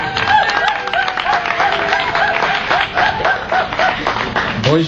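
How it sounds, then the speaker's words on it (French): Audience applause at an Alliance Française end-of-year party in 2013, steady dense clapping filling the room, with voices and bits of chatter and laughter mixed in throughout. "Applaudissez Monsieur Nourdine."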